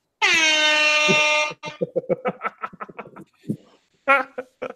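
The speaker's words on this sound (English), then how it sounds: "This deserves an air horn." A loud, sustained air horn blast sounds for over a second, followed by laughter and chatter, then a short second horn burst at the end.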